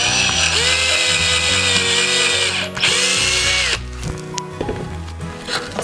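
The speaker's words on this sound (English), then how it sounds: "drill it by eye, but if you want to be particular" An electric drill whines steadily into wood, its motor pitch dipping under load, then stopping before a few shorter bursts of drilling.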